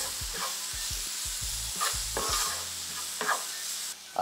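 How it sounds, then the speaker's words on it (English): Seasoned beef stew steak with paprika, coriander and clove powder frying in a pot, stirred in a quick series of thudding scrapes over a continuous sizzle, close and unaccompanied by talk. "Give that a stir."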